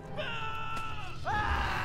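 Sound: screaming in the video game Lord of the Rings Online

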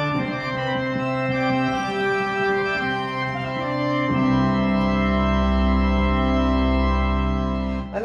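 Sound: Yamaha CLP-785 digital piano playing organ voice

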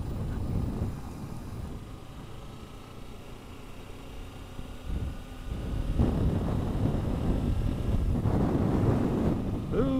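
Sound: wind noise while riding a motorcycle

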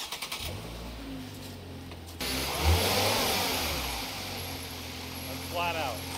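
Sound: Ford Transit van engine revving at full throttle

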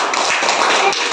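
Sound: children clapping

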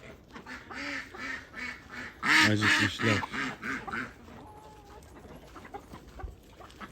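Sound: hungry ducks quacking on a farm

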